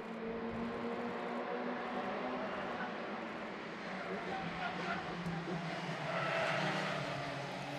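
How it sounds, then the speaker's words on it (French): Race cars starting an 8-hour endurance race in Dutch dunes, engines droning and revving in a continuous blended roar that swells toward the end, with commentary talk over it. "Attention, c'est parti pour 8 heures de course."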